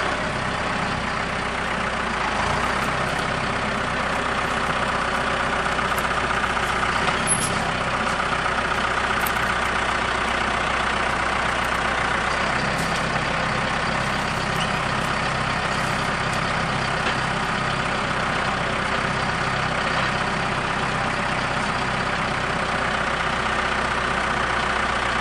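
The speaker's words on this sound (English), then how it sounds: "come in here with the tractor, lift up on this limb, and see if we can't get it to roll over." A tractor engine idles steadily while lifting a tree limb during woodcutting, a loud, close, unbroken rumble running throughout with no speech.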